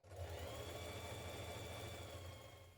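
A home sewing machine running a long straight gathering stitch along the top of skirt pieces, a steady close mechanical whir and hum held for a few seconds without pause.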